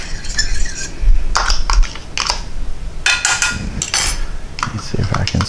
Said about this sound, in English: Let's see if I can scrape out all of that with the whisk